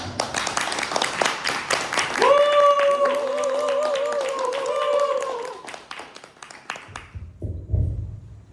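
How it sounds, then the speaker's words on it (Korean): An audience at a Korean book talk claps to welcome the author. Brisk clapping opens, a sustained tonal sound then rises over it and fades, and people are talking near the end. "큰 박수로 모시겠습니다"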